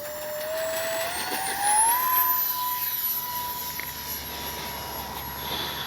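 An X-Fly J-65 twin RC jet whines as it flies past, its turbine pitch rising and then holding steady over a wind-buffeted outdoor background.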